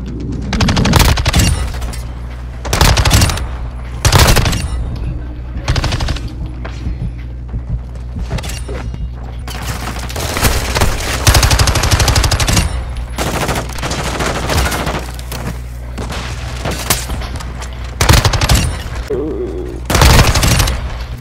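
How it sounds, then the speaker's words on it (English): Bursts of rapid SMG fire crackle through an online shooter match, loud and repeated in clusters across the whole stretch, with mechanical clacks between volleys and a player's voice cutting in now and then. "you guys are using SMGs"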